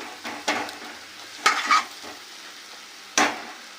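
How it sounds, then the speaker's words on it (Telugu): Ginger paste goes into softened, cooking tomatoes and a spoon stirs the pan, making a few distinct scraping strokes and knocks over a soft sizzle, close and fairly loud. "ఇప్పుడు మనం దీంట్లో అల్లం పేస్ట్ వేసుకుందాము."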